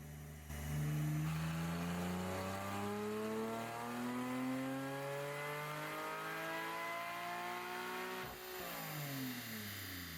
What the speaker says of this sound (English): the ECG Performance exhaust sounds great in both modes